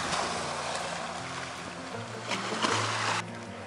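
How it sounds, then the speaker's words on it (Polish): Sea waves wash and break against the rocky shore at Drvenik, Croatia, a steady broadband surge with a louder crash near the end, heard alone without talk. "Fale się rozbijają o skały"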